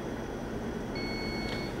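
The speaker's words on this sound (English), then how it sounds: "when it stops flashing, you hear the beep sound" A steady electronic beep tone from the load lock of a Hitachi S-4800 scanning electron microscope sounds partway through, sustained for under a second over a constant mechanical hum.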